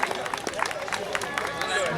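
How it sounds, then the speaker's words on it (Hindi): Audience at a cricket academy presentation clapping, a scattered patter of hand claps mixed with crowd murmur and voices talking over it. "तालियां"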